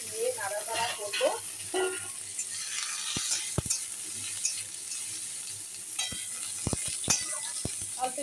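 Moringa drumsticks with salt, turmeric and sugar being stirred in a pan while they fry, heard as a steady close sizzle with scraping and sharp clinks from the utensil, while someone talks throughout.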